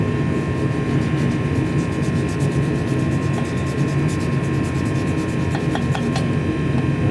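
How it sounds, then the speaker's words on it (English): A brush is scrubbed back and forth inside the EGR valve of a 2001 Monte Carlo to loosen carbon buildup, producing a loud, continuous rasping rub with a steady drone behind it. "Take the brush, back and forth"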